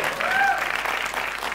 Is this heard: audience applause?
yes